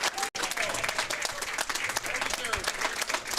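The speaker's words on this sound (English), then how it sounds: "And the crowd goes wild." A crowd at a junior 9-ball pool championship claps and applauds loudly and continuously for a few seconds, with voices mixed into the ovation.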